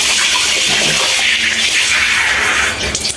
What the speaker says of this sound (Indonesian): ini air mengalir